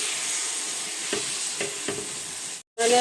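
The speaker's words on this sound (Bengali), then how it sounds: "গুড় দেওয়ার পর খুন্তিটা এইভাবে চালিয়ে নিতে হবে" Jaggery and tamarind are stirred with a spatula over low heat, giving a soft steady sizzle with a few faint scraping strokes, close and without talk.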